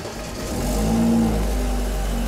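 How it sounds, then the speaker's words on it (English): BMW car engine fires up close by, its low rumble swelling quickly into a brief rev before settling into a steady running hum. "And then you are going to start your BMW."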